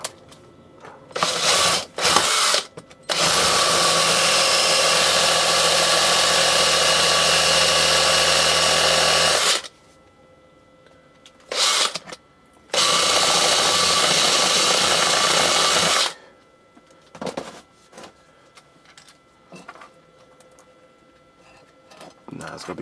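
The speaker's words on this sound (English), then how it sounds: "I'm gonna drill another hole." An old Black & Decker electric screwdriver drills a hole, its motor whirring in two long sustained bursts of several seconds each, separated by short starts, clicks and quiet handling.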